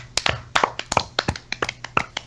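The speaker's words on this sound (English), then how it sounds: "I'm the only one clapping." A single person clapping hands in a quick, slightly uneven run of sharp, close claps, loud and alone with no talk.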